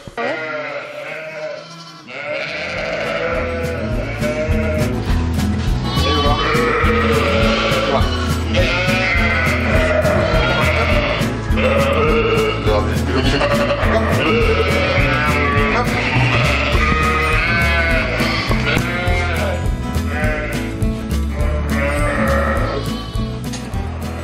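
Sheep and lambs bleat together in a barn during lambing season, a loud, dense, overlapping chorus that runs almost without pause.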